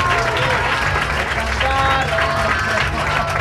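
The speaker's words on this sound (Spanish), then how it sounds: "Vamos a darle un fuerte aplauso a Juan Antonio Garrido Campo." Loud, continuous clapping from an audience at a sports club awards ceremony during a spring fair in Rota, with crowd murmur and voices mixed in throughout.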